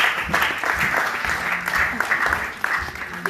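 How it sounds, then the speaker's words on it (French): A church congregation applauds in acclamation after a scripture reading, giving a steady burst of clapping from many hands at close range that lasts a few seconds, with some voices mixed in. "On acclame la parole du Seigneur."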